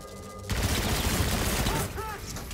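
Sustained automatic gunfire rattles loudly in a Call of Duty: Infinite Warfare campaign firefight, a dense continuous burst after a brief quieter lead-in, with game effects tailing off at the end.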